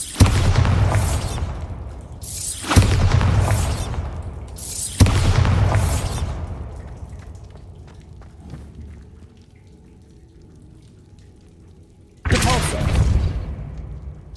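Bombarda spell explosions in the video game Hogwarts Legacy: three deep, booming blasts in quick succession, each fading out, then a quiet stretch before a fourth loud burst.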